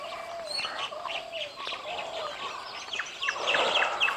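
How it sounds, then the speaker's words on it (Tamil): Several birds chirp and call outdoors in the morning at a nature park in Yelagiri, India, in overlapping short tweets and trills, moderately close, with no talking. "காலையில் எந்திரிச்சு இந்த பறவைங்க சத்தெல்லாம் கேட்கும்போது"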